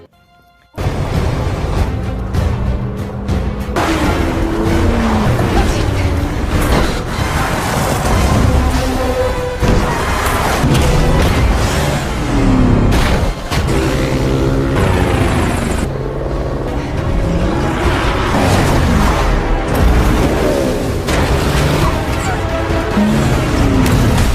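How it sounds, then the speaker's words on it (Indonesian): Cars roaring in a chase from a James Bond film, loud sustained engine rumble with passing whooshes and heavy impact booms throughout. "di tengah perjalanan mereka dibuntuti oleh dua mobil yang tidak ia kenal"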